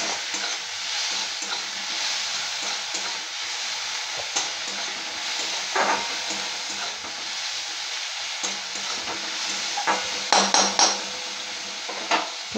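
Cumin, coriander, turmeric and chili powder fry with tomato for a peyaz dish, giving a constant close sizzle under repeated spoon scrapes and clinks against the pan, louder knocks near the end.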